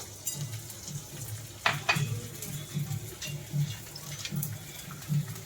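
Dry fruits and edible gum roasting in a pan, a soft intermittent rustle and scrape as they are stirred, with a couple of sharper clinks against the pan, quiet and close.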